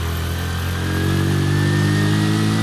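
A motorcycle engine revs steadily in second gear during a riding lesson, a loud continuous drone with a gently rising pitch that sustains throughout, with no talk over it.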